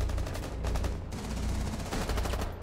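Rapid automatic gunfire from the video game Rainbow Six Siege rattles in dense, sustained bursts with short pauses between them, loud and continuous with no speech.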